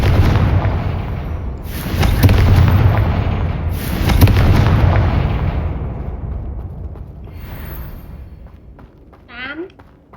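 Confringo explosion spells in Hogwarts Legacy go off as two heavy booming blasts a couple of seconds apart, each followed by a rumbling decay. A voice is heard in the background, and a short whooshing effect comes at the end.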